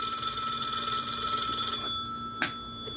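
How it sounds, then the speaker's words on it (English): A telephone rings steadily in a room, a sustained electronic bell tone carrying on without pause, fairly quiet and alone, with a brief louder knock near the end. "Phone just keeps ringing."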